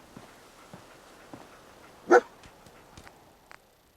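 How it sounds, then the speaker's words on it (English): A dog in the Fallout 4 video game gives a single loud, close bark in the middle, with faint scattered game noises and soft footsteps around it. "Dog."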